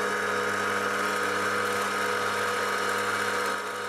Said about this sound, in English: I fitted the end mill in the milling machine.